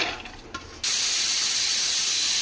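After a quiet pause, a kitchen mixer grinder loaded with onion, garlic, ginger, one chili and coriander leaves switches on abruptly into a loud, steady, whirring roar that runs unbroken, with no speech.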